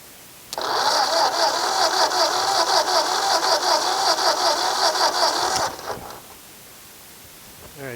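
Old Ford tractor engine being cranked by the starter for about five seconds, a steady whirring churn with rhythmic pulses that stops abruptly without firing.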